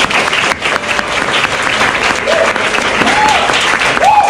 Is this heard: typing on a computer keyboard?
no